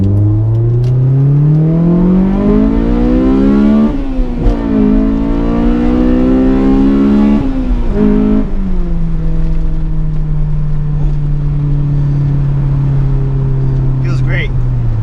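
A Honda S2000 accelerates hard through the gears in a sustained pull, its engine note climbing steadily, dropping briefly at each shift, then rising again, loud and close from inside the car.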